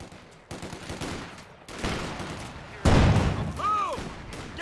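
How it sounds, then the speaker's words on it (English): Heavy machine gun fire from a Company of Heroes 2 battle with American forces, bursts of gunfire layered with explosions and battlefield noise, soldiers' voices shouting over the fighting. "That's a heavy machine gun!"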